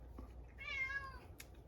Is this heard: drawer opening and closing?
no